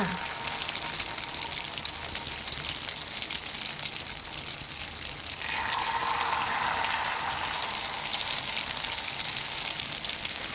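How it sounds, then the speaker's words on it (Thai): Steady broadband sizzling of egg batter dropped into hot vegetable oil for Thai egg fritters, continuous and close, growing slightly louder and brighter about halfway through. "พอน้ำมันร้อน ตักไข่ที่เตรียมไว้มาหยอดเลยค่ะ"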